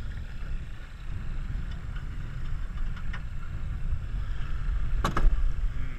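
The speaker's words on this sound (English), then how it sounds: "There goes the engine." A boat engine turns over and settles into a steady low rumble on the water, fairly close, with a short sharp burst near the end and no talking.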